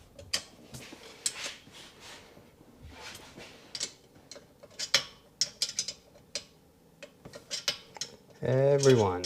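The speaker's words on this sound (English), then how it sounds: "the wrench gets jammed in there." A wrench clinks and ratchets near the rubber bushing of the air box on a Sea-Doo 4-Tec, in scattered close metallic taps and clatters, with a brief burst of speech at the end.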